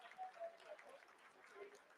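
Faint applause and scattered clapping ripple through mission control during the Chandrayaan-3 lunar landing, quiet and distant with soft murmuring voices underneath.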